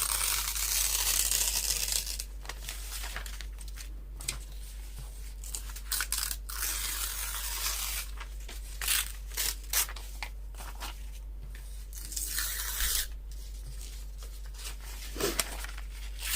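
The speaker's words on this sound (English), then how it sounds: "I'm going to go ahead and rip this down too." Paper pages being ripped out of an altered book for a junk journal, with close crunchy tearing and crinkling in irregular bursts over a steady low hum, no talking.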